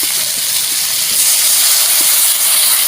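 Water poured into a hot pan of crab curry hisses loudly and steadily, a broad sustained rush of steam with no voices over it.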